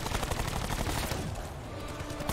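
Dense, continuous gunfire from Black Ops 4 Zombies, rapid overlapping shots and bursts filling the whole stretch at a steady loud level, close up with no talk.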